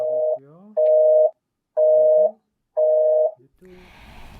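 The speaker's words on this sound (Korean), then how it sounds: "전화통화를 시도했지만 끝내 통화를 하지 못했습니다" Telephone busy signal from an unanswered call to a gallery operator, with three steady, evenly spaced loud tones plus a shorter fourth that cuts off as a brief voice and background noise begin.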